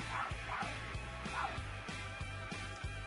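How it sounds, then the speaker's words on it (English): A dog barks repeatedly in the background, with light yips heard faintly over a steady rhythmic music bed. "My dog keeps barking."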